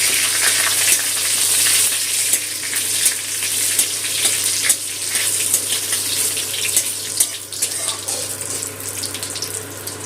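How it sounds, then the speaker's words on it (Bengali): Whole cumin seeds with a bay leaf frying in hot oil give a constant bright sizzle with small crackling pops throughout, close and steady, with no voices. "ফোড়নটা একটু তেলে ভালো করে ভেজে নেব"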